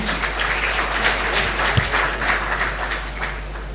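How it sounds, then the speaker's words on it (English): An audience at a policy panel on Nigeria claps for a World Bank director, a moderate, continuous patter of hands with a low electrical hum underneath. "Please, a round of applause for him."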